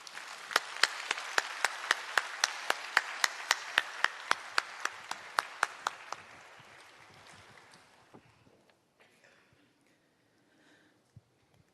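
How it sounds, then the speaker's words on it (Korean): A church congregation claps to welcome a speaker at a Sunday service. A steady, evenly paced clapping that sounds like a single pair of hands rings out close and bright, then thins into scattered, fading claps and near silence. "박수로 맞이해 주시길"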